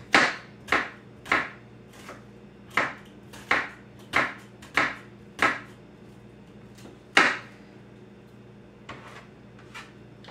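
Knife chopping an onion on a board: about a dozen sharp, distinct thunks in an irregular rhythm, close and clear over a quiet low hum.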